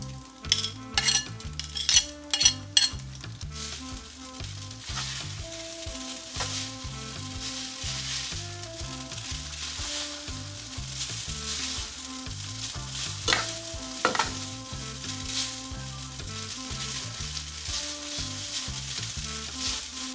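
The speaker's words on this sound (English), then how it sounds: "Now I'm gonna add my sauté onion, garlic, and scallion." Onion, garlic and scallion sizzle steadily in a stir-fry pan for chow mein, with spatula scrapes and clinks near the start, all under continuous background music.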